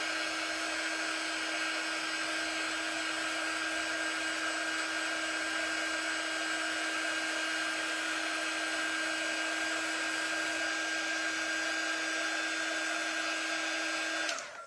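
Hair dryer blowing steadily on paint on an Easter bunny craft piece with a window box, a constant loud whirring hum that runs unbroken and then cuts off at the end, with no talking.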